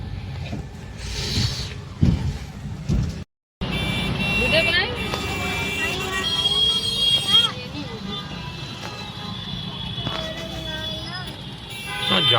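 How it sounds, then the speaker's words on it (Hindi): Many vehicles crawl along a highway at night in a traffic jam, with a steady close rumble of engines, occasional horn toots and a brief silent gap, while a voice talks over it. "जाम हो रहा है, इतनी गाड़ी का पूरा जाम हो रहा है"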